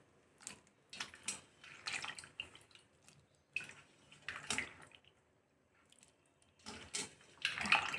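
Cooked macaroni is rinsed in cold water, with intermittent splashing and running-water bursts coming in uneven waves and brief pauses, close and fairly quiet.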